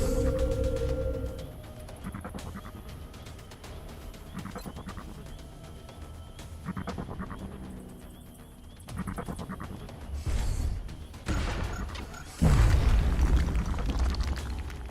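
Explosions in a video game blast apart gravestones in a cemetery: several heavy booms and bursts, with a big, loud low blast near the end, under a busy game soundscape.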